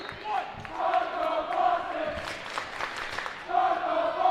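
A home crowd at a girls varsity high school basketball game roars and cheers after a foul, sustained near crowd noise echoing in the gym with a commentator talking over it.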